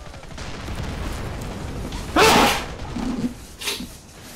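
A person sneezes once, loud and close, in a sharp burst partway through, followed by a few smaller breathy sounds against low background noise.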